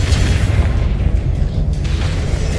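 A Confringo spell explodes in the Hogwarts Legacy video game, producing a loud, sustained, rumbling blast with heavy low-end boom that holds steady and never fades out.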